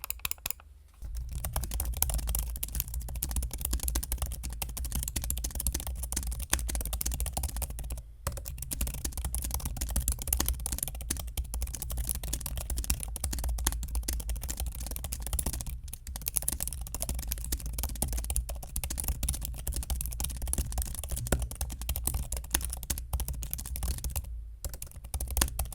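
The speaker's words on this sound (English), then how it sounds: "the keyboard definitely shines in bursts of typing for me personally" Steady fast typing on an M2 MacBook Air keyboard, a dense continuous patter of light clicks with a few brief pauses, close and alone without any voices.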